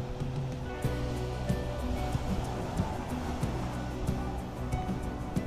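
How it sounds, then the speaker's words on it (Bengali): Sea waves roll in steadily and break on the open, boulder-free new sand beach at Digha next to Old Digha, making a constant loud wash of surf with small crests throughout. "কি দারুণ ঢেউ আসে দেখুন।"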